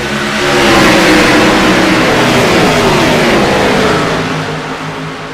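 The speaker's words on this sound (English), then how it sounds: "These cars sound so good out there." Race car engines roar at Daytona in a racing video game, a loud, sustained high-revving drone that swells and fades slightly as the cars pass, with no voices.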